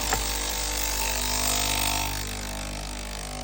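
The pump of a Breville Oracle Gen 3 BES980 espresso machine, serviced after leak and error 30 issues, runs at full pressure with a steady loud hum and buzz that eases slightly partway through.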